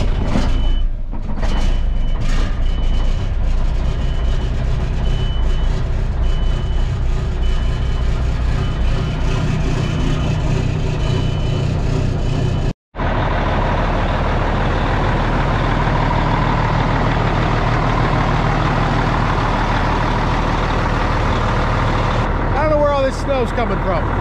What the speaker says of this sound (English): This is I think it's a 2002 Kenworth W900. 6NZ motor.